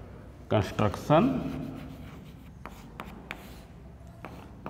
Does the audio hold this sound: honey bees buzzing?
no